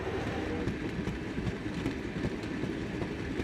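Cartoon freight train running along the track, a steady rumbling roll with rhythmic clacking of wheels, close and continuous with no talk.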